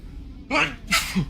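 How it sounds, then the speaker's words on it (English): Two quick close sneezes in a row, sharp bursts of breathy noise. "Oh, sorry about that. Bless you."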